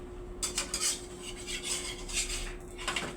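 Dishes clinking as a plate is picked up, several light ceramic knocks and scrapes spread over a few seconds, near and moderately quiet, with no talking.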